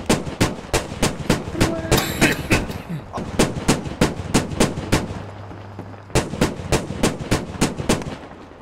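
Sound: gunfire shooting at a tank in the video game Squad

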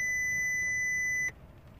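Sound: car instrument cluster warning buzzer and gong

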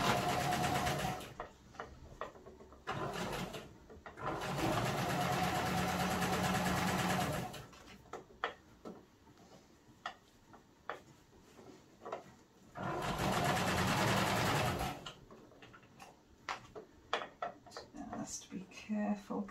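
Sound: sewing machine stitching a circular seam

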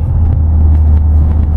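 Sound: Volkswagen Golf GTI engine accelerating, exhaust roar

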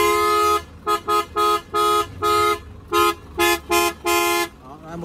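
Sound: car horn single loud tone

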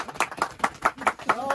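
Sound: clapping for ATV club president

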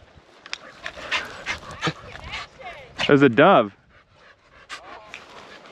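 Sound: hunting dogs panting

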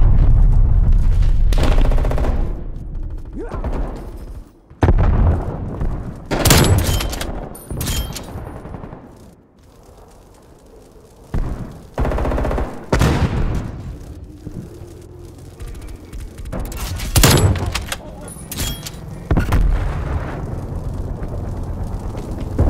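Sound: incoming artillery strike in Call of Duty Black Ops Cold War video game

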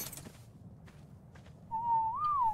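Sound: character whistling in the video game Ark

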